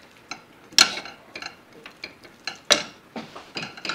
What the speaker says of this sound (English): And I'm gonna stir that